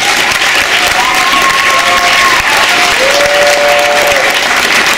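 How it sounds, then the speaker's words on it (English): Loud, full applause from an audience at a school winter concert honouring the music teacher, with a few whistles or cheering tones rising above the continuous clapping. "A big hand of applause for our music teacher."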